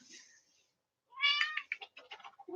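A house cat meows loudly up close, a clear harmonic cry followed by a run of shorter chirping meows, after a faint quiet stretch.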